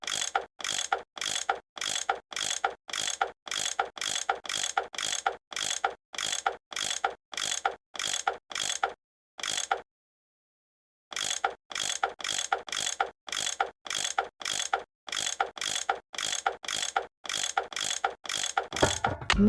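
Ratcheting wrench clicks rapidly in a steady rhythm while loosening bolts in a Nancy Drew video game, with a brief pause midway before the crisp mechanical clicking resumes, close and alone.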